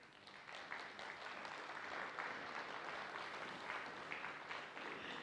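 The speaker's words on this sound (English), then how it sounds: "Give them applause." Applause rises from an audience at a welcome session of a spiritual retreat program, a soft, steady patter of many hands that sounds somewhat distant and sustained throughout.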